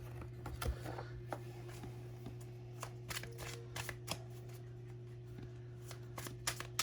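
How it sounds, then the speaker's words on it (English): Tarot cards being shuffled, soft papery riffles and taps repeating at close range over a quiet room hum, with no voices. "let's get a clarifier. Where's our clarifier cards?"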